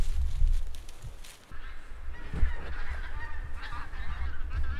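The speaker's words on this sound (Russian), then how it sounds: "Гуси-лебеди" A flock of geese honks, the calls faint and distant over loud wind rumble in the taiga.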